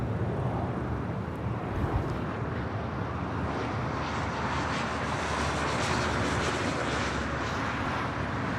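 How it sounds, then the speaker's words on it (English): Japan Airlines Boeing 787-9 Dreamliner taking off from LAX, a continuous loud jet engine roar with wind buffeting, steady from start to finish. "That was Japan Airlines Flight 69 taking off to Osaka on a 787-9 Dreamliner."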